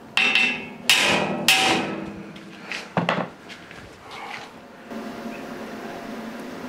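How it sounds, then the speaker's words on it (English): Three sharp metallic hammer taps ring out close by while adjusting metal pieces for MIG welding, followed by a few softer knocks and then quiet background noise. "I'll adjust them by tapping them with the hammer over that way a bit"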